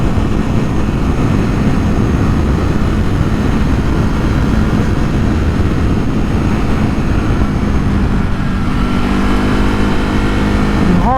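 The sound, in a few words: motorcycle riding in 4th gear on Welsh roads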